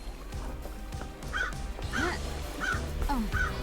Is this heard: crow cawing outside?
yes